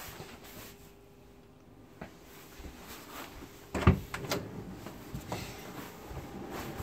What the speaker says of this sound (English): And then you can close the door off and full privacy.